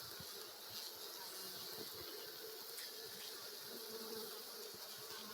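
Honey bees buzz steadily around an open beehive being removed in Jamaica, a continuous faint hum with soft rustling throughout and no talk.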